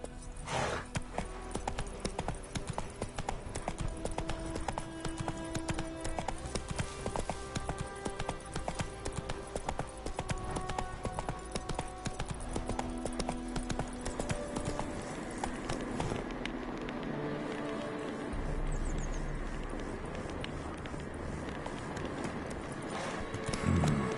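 Roach, a horse in The Witcher 3, gallops with steady rapid clip-clop hoofbeats that run on continuously under a dense game soundtrack, a brief whinny rising near the end.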